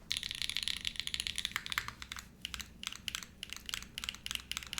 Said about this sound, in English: This should sound exactly like my keyboards that I normally build for the Envoy